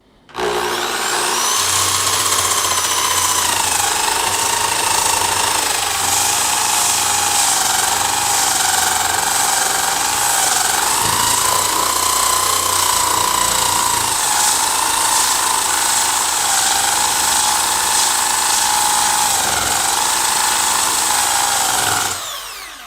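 A sanding attachment on a power drill strips enamel and acrylic paint from wood, a loud, steady high-pitched whine that runs almost unbroken with gritty abrasive scraping underneath, dipping briefly in pitch under load.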